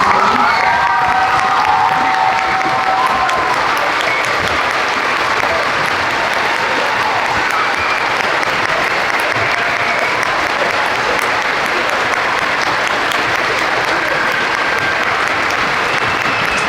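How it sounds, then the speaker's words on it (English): A school assembly audience rises for a standing ovation, loud sustained applause with cheering and shouts from a large crowd of children and adults, steady and close for the whole stretch. "can we give them a standing ovation?"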